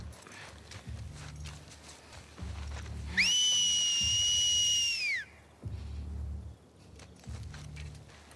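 In The Last of Us Part II, an enemy gives a loud, steady two-tone signal whistle that lasts about two seconds. It sounds over the rhythmic clip-clop of a horse walking, with no talking.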